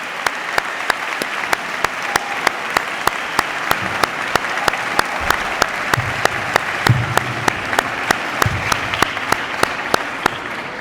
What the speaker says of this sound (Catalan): Demanem un fort aplaudiment per a tots ells, participants, voluntaris i personal del centre.